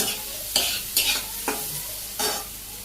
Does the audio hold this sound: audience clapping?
no